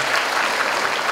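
An audience at a stand-up comedy show applauds in a short, dense burst of clapping that stays even and fills the room from start to finish.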